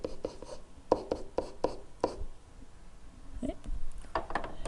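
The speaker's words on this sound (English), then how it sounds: "I'll write that down over here too." Handwriting during a trigonometry math lesson: quiet, close pen or marker strokes in short scratchy bursts with small pauses between them, soft and intimate with no speech over it.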